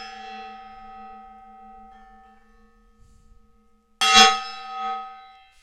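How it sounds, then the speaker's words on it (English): A single gong is struck near the end, a sudden bright metallic crash that blooms and then fades, following a softer ringing tone from an earlier strike that slowly decays. "Great, gong coming in. Here we go. Gong time."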